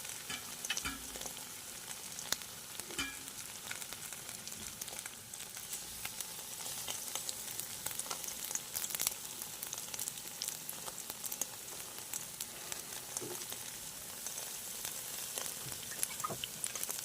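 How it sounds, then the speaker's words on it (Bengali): Pumpkin pieces coated in gram flour and salt batter fry in hot oil, a steady close sizzle and crackle holding for the whole stretch with a few small pops and no talking. "বেসনের মধ্যে কুমড়োর টুকরোগুলোকে দিয়ে এই দেখো তেলে ছেড়ে দিলাম"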